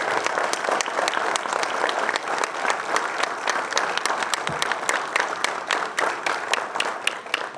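A large audience applauds loudly and continuously in tribute to Puneeth Rajkumar at a Television Premier League event in Karnataka, with dense clapping that keeps up throughout and faint voices mixed in.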